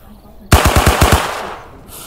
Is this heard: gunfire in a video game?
yes